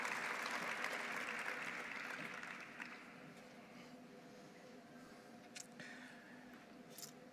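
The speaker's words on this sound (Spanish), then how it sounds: "Lo recibimos con un fuerte aplauso" Audience applause welcoming a speaker to an evening session of an evangelical congress, a broad moderate wash that is strongest at first and then thins to a softer, sustained patter with a few sharper claps near the end.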